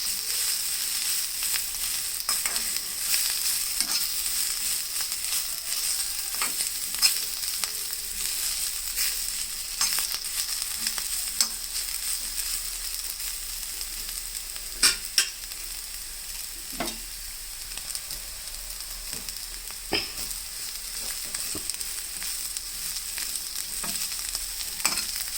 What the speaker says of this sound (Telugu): వేగినాక ఎల్లుల్లిపాయ, జీలకర్ర వేసి కొంచెం 1 నిమిషం పాటు అట్లా యాగనివ్వాలి ఆయిల్లో.